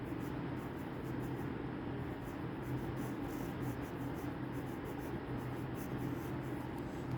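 Faint, steady scratching of notes being written, barely above a low background hiss throughout.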